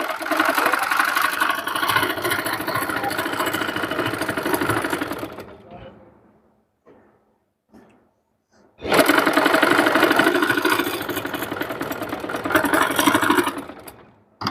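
A sewing machine stitches a puff sleeve in loud, rapid, continuous runs, stopping for about three seconds of near silence with a few faint handling clicks before stitching resumes, with a last brief burst at the end.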